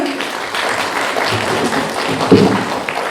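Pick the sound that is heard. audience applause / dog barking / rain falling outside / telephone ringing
audience applause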